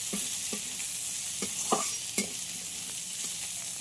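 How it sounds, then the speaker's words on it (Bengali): Chopped onion fries in hot oil with ginger and garlic, giving a steady sizzle broken by several sharp clicks of a spoon stirring the pan, close and alone without talk. "আদা রসুনের সঙ্গে পেঁয়াজটাকে একটু ভেজে নিতে হবে।"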